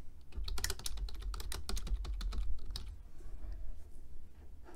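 A computer keyboard clatters as text is typed to annotate a SOLIDWORKS sketch. The keystrokes are rapid, close and continuous for several seconds, then thin out toward the end.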